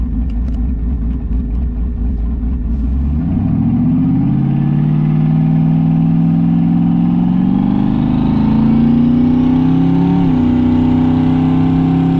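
A turbocharged car with cut downpipes revs loud and close, a harsh droning engine note climbing steadily in pitch over about twelve seconds with no talk.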